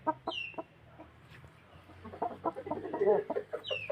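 A young fighting rooster, about five months old and newly penned, clucks in short, soft bursts with a few sharp calls, close by against a quiet background hiss and without talk.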